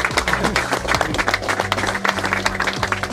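Applause at a fishing competition prize ceremony, a crowd clapping steadily with dense overlapping claps, fairly close and continuous throughout.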